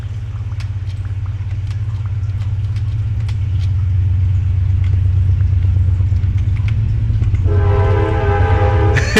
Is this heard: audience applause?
no